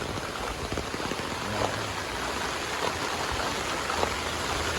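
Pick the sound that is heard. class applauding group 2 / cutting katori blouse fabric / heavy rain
heavy rain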